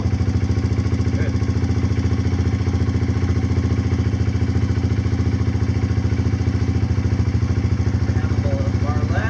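A Kawasaki KLX140 dirt bike fitted with a KX65 carburetor idles close by at a fast, even putter that holds steady throughout, loud and unbroken.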